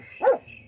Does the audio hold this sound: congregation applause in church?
no